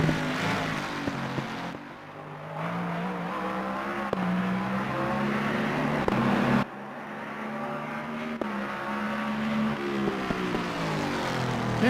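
Turbocharged BMW M6 race car engine in Assetto Corsa Competizione, a steady loud drone with shifting pitch and two brief gear-change dips, running continuously without talk.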